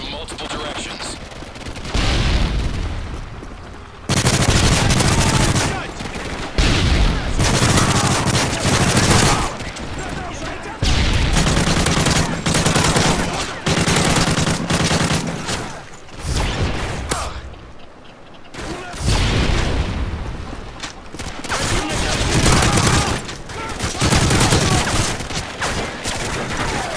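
Dense gunfire from Call of Duty MW3 survival mode on the Sea Town map, with loud sustained automatic bursts and short pauses throughout, under game voice announcements.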